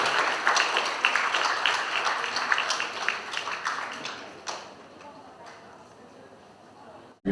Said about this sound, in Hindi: हमारे जोरदार तालियों से इस मोमेंट को यादगार